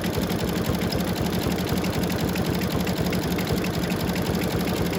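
An embroidery machine stitches through thick eyeglass case material with a steady, rapid mechanical rhythm of needle strikes and motor whir, close and continuous with a slight labored edge throughout.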